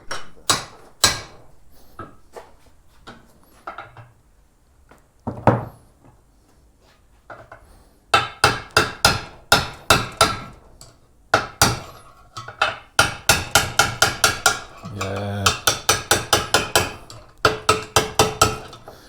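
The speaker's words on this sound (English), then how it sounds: "So we're gonna need the hammer." Hammer blows strike the swingarm of a Yamaha XT660Z motorcycle during repair. A few loud, sparse metallic impacts come first, then a long run of rapid, steady, ringing strikes close by.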